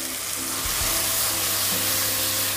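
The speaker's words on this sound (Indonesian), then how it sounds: "Setelah minyaknya panas, tumis bumbu." Spices with ground pepper sauté in hot oil, a dense, steady hiss of sizzling with a couple of brief low knocks from stirring, close and fairly loud for a few seconds.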